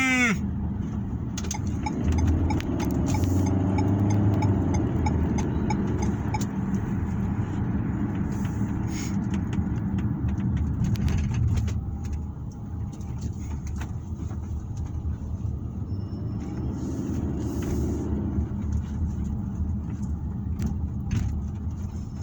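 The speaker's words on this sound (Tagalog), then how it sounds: "Naku po, pabalik traffic. Agoy, grabing traffic" Heavy road traffic in Quezon City rumbles steadily with engine drone and a low vehicle hum, continuous and fairly close, with occasional faint higher noises on top and no clear speech.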